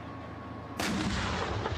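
A tank cannon fires at a target 1800 metres away during a tank biathlon competition, one sharp loud blast at close range with a broad rumbling tail.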